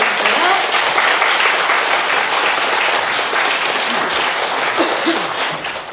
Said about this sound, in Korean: 큰 박수 보내주세요.